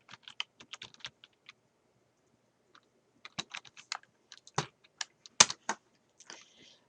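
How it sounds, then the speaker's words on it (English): Typing on a computer keyboard at a desk while entering spreadsheet data, heard as quick irregular bursts of clicky keystrokes with short pauses, fairly close and alone. "I'm going to type in order 4"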